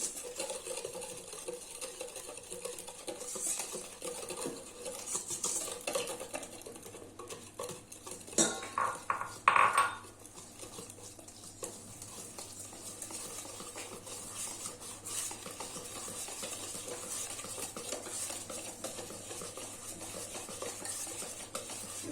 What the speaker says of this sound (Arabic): غنزيد الدقيق شويه بشويه، نزيد نخلط هاد المكونات مزيان.